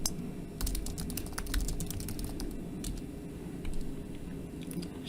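Rapid keystrokes on a computer keyboard while naming a chart, bursts of close clicking with short pauses over a quiet room hum.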